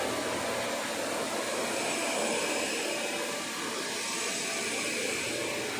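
A 1/2–4 inch stainless steel elbow cold forming machine with a full servo system runs, giving a steady, loud mechanical whir with broadband hiss that holds evenly throughout and has no talk over it.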